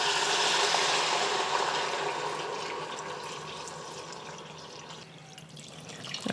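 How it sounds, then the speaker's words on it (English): Water pours steadily into a pot of pho broth ingredients for a Vietnamese beef noodle soup, a close, full rushing splash that gradually softens and thins as the pot fills. "I'm just going to add enough water to cover"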